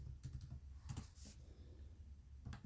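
Keys clatter on a computer keyboard in short bursts as a web search is typed, with brief pauses between clusters of quick taps, close and moderately loud, no voices.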